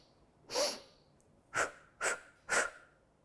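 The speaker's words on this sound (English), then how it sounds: "you can let it out as short, sharp bursts through pursed lips" Short, sharp breath bursts pushed out through pursed lips during a vocal breathing exercise: one longer puff, a pause, then three quick evenly spaced bursts, close and clear with no talking.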